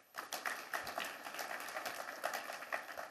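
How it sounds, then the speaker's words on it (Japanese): Shareholders at an annual general meeting clapping to approve a resolution, a quiet, sparse patter of hands heard from a distance in a large hall, with individual claps picking out an uneven rhythm. "賛成いただける方は拍手をお願いいたします"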